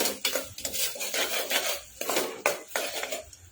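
A metal spoon scrapes and clinks against a pan in irregular strokes, stirring vegetables and garam masala for bhaji pulav close up, with no talking.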